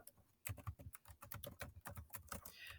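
Rapid keystrokes on a computer keyboard, close and fairly loud, tapping in uneven bursts with brief pauses, no voices.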